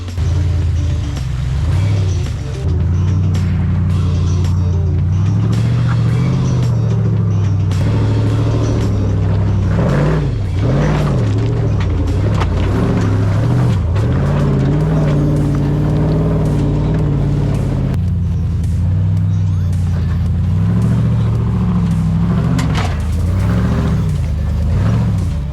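Built 392 Jeep Wrangler crawling up over rocks off-road, its loud V8 engine close by, rumbling steadily with repeated throttle blips and revs rising and falling throughout.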